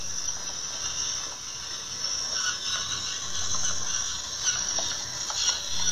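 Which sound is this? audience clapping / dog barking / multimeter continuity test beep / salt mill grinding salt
salt mill grinding salt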